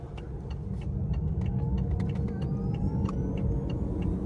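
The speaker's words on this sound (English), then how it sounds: "Taking off in EV mode." A 2014 BMW i8 pulls away in electric EV mode with a low, steady rolling hum and road rumble. A faint rising electric whine runs through it, and no combustion engine note is heard.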